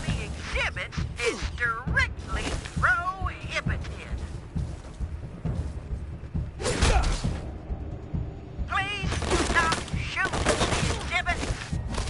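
Gunfire in the game Grimland 3 inside a museum with exhibits, bursts of shots and whooshing impacts coming and going amid robotic game voices.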